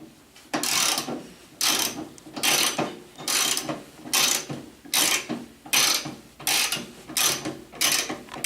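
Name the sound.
ratchet tightening go-kart wheel hardware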